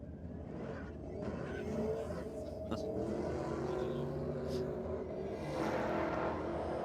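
A Caprice drag racing car's engine rumbles at a distance at a drag strip in Sydney, a steady low roar that swells slightly near the end, with a commentator's voice over it.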